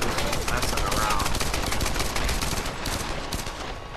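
Rapid video-game gunfire in Tomb Raider multiplayer team deathmatch on a beach map: a dense, continuous rattle of automatic shots, loud and steady across the whole stretch, with no talking.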